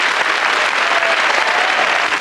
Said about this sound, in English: A warm round of applause for playing a good game of Cluedo.